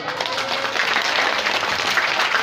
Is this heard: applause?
yes